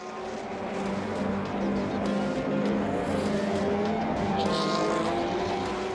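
Audi number 2 prototype race car crossing the finish at Circuit of the Americas in Texas during the FIA WEC 6 Hours, a loud sustained engine roar with shifting pitch, steady and close, with a bit of tire squeal.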